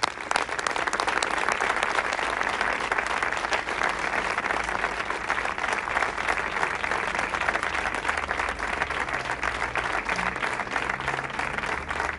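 Sustained crowd applause from an audience fills the whole stretch, a dense steady patter of many hands clapping at an even level with no talk over it.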